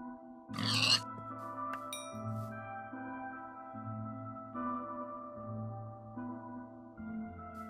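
A few short pig grunts and oinks in Minecraft, quick and mid-loud, spaced out over soft background game music, with no voices.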